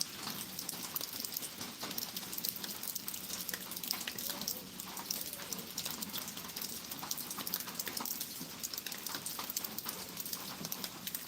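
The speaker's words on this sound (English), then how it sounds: "There's a lot of raindrops." Dense, continuous patter of raindrops falling outdoors, an even steady hiss of many drops without pauses or talk.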